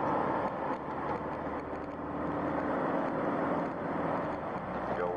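A car drives close behind on a winding road, a steady broadband engine and tyre rumble that holds loud throughout with no talk.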